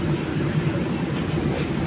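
Metro train running between stations in Manila, a steady loud rumble of the moving car with continuous low-pitched rolling noise.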